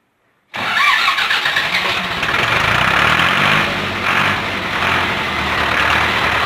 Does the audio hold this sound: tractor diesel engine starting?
yes